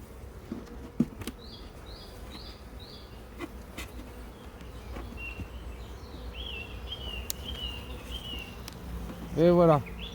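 Honeybees buzz around an open hive with brood and honey frames during a queen introduction, a soft steady drone with a few louder fly-bys, birds chirping faintly in the background.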